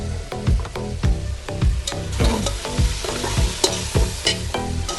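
Spices fry with ginger-garlic paste for beef nehari in a loud, dense sizzle, with rapid repeated scraping and clattering as a spoon stirs the pot close by.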